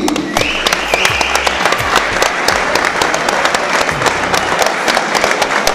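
A crowd at a boxing event applauds, loud sustained clapping close by with scattered sharper claps throughout.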